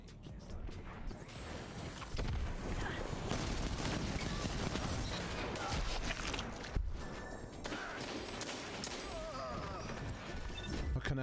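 Dense, continuous gunfire in the video game Destiny 2, a loud rattling barrage of shots and impacts filling the scene, with faint talk in the background.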